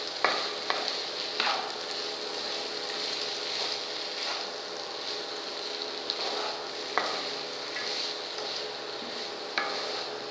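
Poha being stirred in a cooking pan: a steady sizzle runs throughout, with scattered scraping ticks as the spoon moves through the flattened rice.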